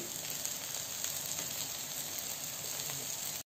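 Onion frying with soya chunks and tomato in a pan, a steady dense sizzle that runs unbroken and close-up before cutting off abruptly, with no voices.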